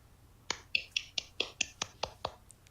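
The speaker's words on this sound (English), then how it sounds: "Yeah, that was applause." Sparse, uneven claps from a tiny podcast audience gathered at the table: about nine separate sharp hits spread over a few seconds, close and dry, with no talking.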